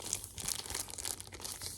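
A thin plastic comic book bag crinkles and rustles up close in a quick burst of crackly handling, fairly faint.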